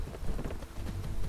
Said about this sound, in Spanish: Espero que se pase la tormenta